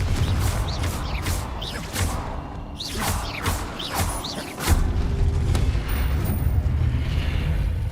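Confringo fire spells from the video game Hogwarts Legacy, heard as a rapid series of sharp blasts with booming thuds, followed by a rumbling explosive burst and a lingering low roar.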